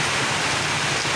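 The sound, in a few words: heavy rain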